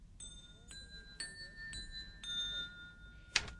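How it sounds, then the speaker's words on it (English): Musical chimes call passengers to dine aboard a ship: a series of bright, sustained tuned tones struck roughly every half second, ringing softly over a low hum, ending with a sharper metallic tap. "we are summoned to dine by musical chimes"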